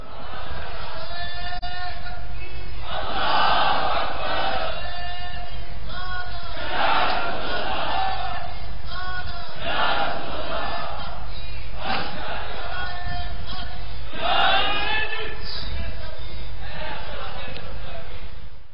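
A large crowd chants the religious slogan Ya Rasool Allah in loud, repeated call-and-response waves, with several strong collective surges across the stretch.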